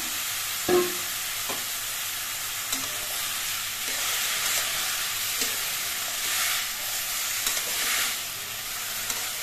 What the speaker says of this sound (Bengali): থোড় থেকে যে জলটা বেরিয়েছিল সেই জলটা আমি দিচ্ছি